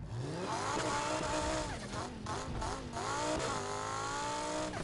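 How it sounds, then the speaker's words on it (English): A high-revving Lamborghini Huracan V10 engine in the video game Need For Speed Heat roars loudly, its pitch sweeping up and down through gear shifts as the car accelerates hard. "That V10 just sounds amazing."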